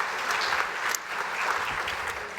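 Warm applause from a conference audience after a panel speaker, many hands clapping at an even level throughout, slightly distant and without speech on top.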